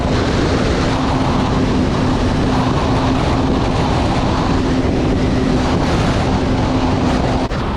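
A 2022-or-newer Kawasaki Ultra jet ski fitted with a Kspeed KS3 ProRace ride plate runs across ocean waves. Its steady engine drone sits under a constant, loud rush of wind and spray.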